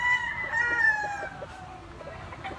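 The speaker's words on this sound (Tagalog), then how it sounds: "Guwapo kay manok si Talyox." A Golden Boy bloodline rooster, four years old, crows once, a long drawn-out call that fades, followed by softer clucking nearby.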